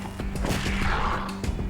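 Gunshots from a gun in the video game Wasteland 3 crack out as a string of sharp, closely spaced impacts over a busy, noisy battle backdrop.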